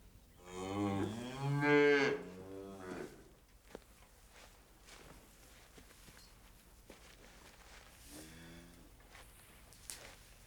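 Cattle on a farm moo, first a long loud nearby call, then a quieter one later, with faint footsteps and shuffling in between.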